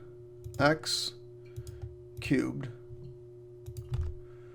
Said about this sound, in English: All right, so I'll just type in the original.